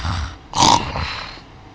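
People imitate snoring with their voices, producing a few rough, growling snorts and one louder burst in the middle, close and fairly quiet, with no words spoken.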